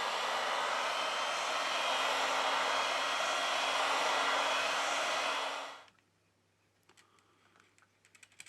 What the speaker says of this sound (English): With the help of a heat gun, we apply 90 Celsius degrees during 4 minutes.